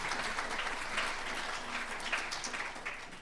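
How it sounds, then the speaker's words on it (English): An audience applauds at a polymath talk event, a brief, moderately distant burst of steady clapping that holds evenly for a few seconds without voices. "Let's give him a round of applause for that really quickly"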